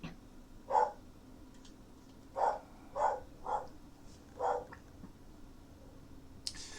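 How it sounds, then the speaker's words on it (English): Several small dogs bark in short bursts, about five sharp yaps spaced irregularly over a few seconds, close by and moderately loud, with no talk over them. "Very angry dogs."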